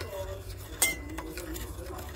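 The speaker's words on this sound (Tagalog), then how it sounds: "Haluin natin para yung asukal at saka yung asin" A utensil stirring sugar and salt in a pot for pork belly in a rice cooker, giving faint scraping and one sharp metallic clink early on, quiet and close, with soft talk in the background.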